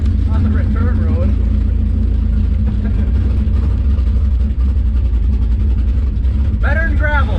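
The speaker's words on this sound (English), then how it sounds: "We're gonna go run over our plywood bridge here on the return road." A 1965 Impala SS drag car rumbles loud and close with a steady, heavy engine drone, while someone talks over it.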